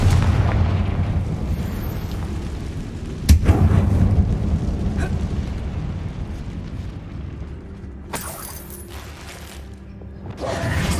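Rumbling low-heavy blast from a Confringo fire spell in Hogwarts Legacy, set off inside a closed tomb, with a sudden crack at about three seconds swelling into a deep roar over a constant booming ambient bed, then lighter crackles later on.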